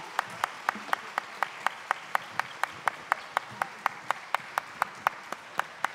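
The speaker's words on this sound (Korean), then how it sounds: "우리 친구들 뛰어나가고 박수 한번 쳐주세요." Church congregation clapping in unison at a Sunday service, roughly three steady claps per second, evenly spaced and moderately loud in a reverberant hall, with no voices.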